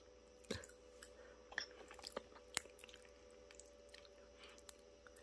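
Soft, close chewing of sweet potato, with a few sharp wet bites and squishy mouth sounds at a very low level.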